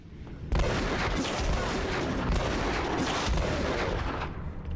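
Gunfire in the video game Afterfall: InSanity, a dense, loud, continuous barrage of shots and booms that starts abruptly and carries on without pause.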